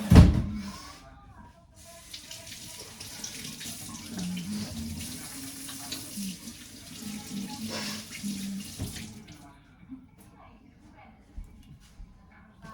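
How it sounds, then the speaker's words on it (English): Tap water runs steadily into a sink for hand washing before baking, a continuous splashing flow that cuts off near the end, with a few soft knocks and a voice in the background. "And we'll wash our hands because I have fear of salmonella."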